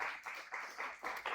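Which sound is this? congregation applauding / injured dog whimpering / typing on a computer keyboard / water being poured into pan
congregation applauding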